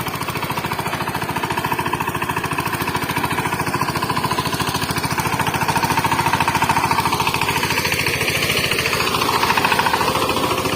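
A tractor engine runs steadily in a rice field during transplanting season, a loud, close, rapid knocking diesel chug with constant rhythm that swells slightly partway through.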